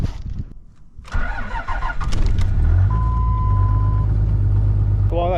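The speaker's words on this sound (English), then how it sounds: "While that truck's warming up," A truck engine cranks and catches at about one second, then settles into a steady, close idle rumble as it warms up. A faint tone and chirps appear briefly near the end.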